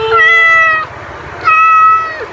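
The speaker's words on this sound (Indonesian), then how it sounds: "Ini suara kucing" A cat meows twice in clear, close succession, the first call longer and higher, the second slightly shorter and falling at the end, with no voices over it.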